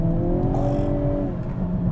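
A 2022 Hyundai Kona N's 2-litre turbo engine pulls hard at full throttle on a rainy road, a loud, continuous rising drone that climbs steadily in pitch with no one talking.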